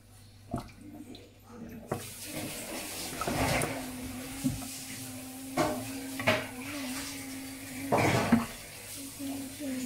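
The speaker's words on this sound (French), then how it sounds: "Mémé, elle rince le chou-fleur" Cauliflower is rinsed under a running kitchen tap, a steady stream of water with clinks and knocks against the sink and bowl, close by, while people talk quietly over it.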